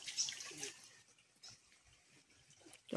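Water from a pipe-fed, year-round cold waterfall flows and splashes quietly and steadily outdoors, with a faint continuous wash and a few louder bursts.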